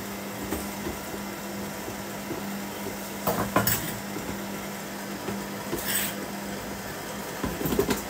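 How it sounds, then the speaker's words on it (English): Chocolate cake batter for a mini egg cake being mixed in a bowl, soft repeated scraping and clinks of a utensil against the bowl with a few louder knocks, close-up over a low steady background hum. "And then just mix that all together."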